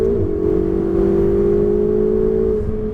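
A Ferrari 488 GTB engine holds a loud, steady high-revving drone as it accelerates on a race circuit, the pitch sustained and slowly rising, close and continuous.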